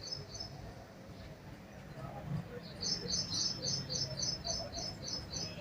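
Small birds chirp repeatedly outside in front of a house, a string of fairly quiet, high tweets that grows busier in the second half over a soft background hum.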